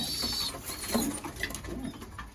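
Racing pigeons cooing softly nearby, low throaty coos rolling one after another with light rustling around them.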